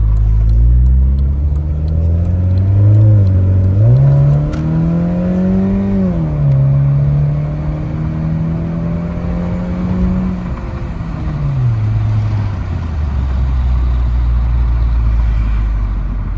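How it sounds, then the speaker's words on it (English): A car with a Volkswagen Beetle exhaust fitted to a Golf roars loudly through a raspy exhaust, revving up through the gears as it accelerates hard at full throttle, pitch climbing and dropping with each shift. "Time to see if my exhaust flies off when I hit the gas and go full speed."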